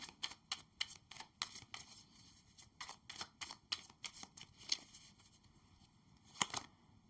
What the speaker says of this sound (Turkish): Hemen bir kart alalım arkadaşlar değne konusuna.